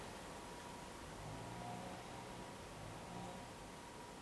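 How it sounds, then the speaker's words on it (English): Steady room noise with a running fan and faint activity from workers outside, a constant broadband hiss with a low rumble and occasional muffled knocks, no speech. "I got some guys working outside."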